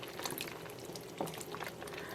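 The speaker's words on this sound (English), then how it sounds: "take some water and rinse out this jar and pour that on" Rinse water is poured from a jar into a dye pot during immersion dyeing of yarn, giving a soft, continuous liquid trickle and splash at close range.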